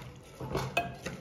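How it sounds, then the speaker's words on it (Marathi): A spoon stirs jaggery in a cooking pot, giving a few soft scraping clinks against the metal within a brief, quiet moment. "हे जरा ढवळून घे, गूळ ढवळून घे"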